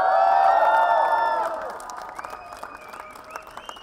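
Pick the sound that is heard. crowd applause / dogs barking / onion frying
crowd applause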